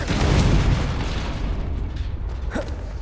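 A Confringo explosive spell goes off in Hogwarts Legacy with a loud, rumbling blast that fills the clip and tails into a crackling, creaking decay, with a fainter pop near the end.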